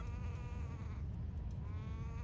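Bird calls in the video game Zelda: Wind Waker, a wavering goat-like bleat held steadily over about two seconds with a brief dip in the middle, fairly faint and without talk.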